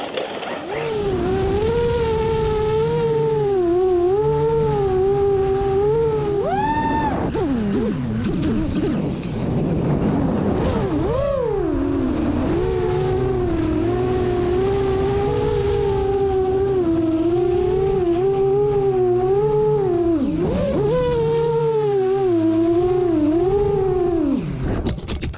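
A big, powerful RC car doing donuts, its electric motor whining in a loud, continuous rising and falling pitch that swoops up and down repeatedly as it spins, close and dominant throughout.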